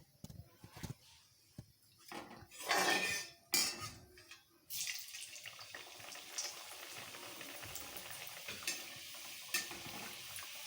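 Samosas lowered into hot oil for deep frying over medium heat, with clattering handling noises and brief bursts before a steady close sizzle settles in and continues with small crackles.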